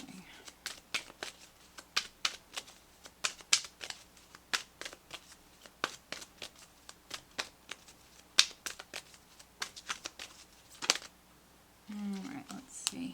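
Tarot cards shuffled by hand in a long run of crisp, rapid riffles and slaps, close and fairly soft, with a brief rustle near the end.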